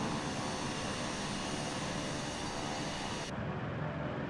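An F-18 fighter jet flies close by in Microsoft Flight Simulator 2024, a loud steady broadband jet roar that holds without a break and cuts off sharply near the end.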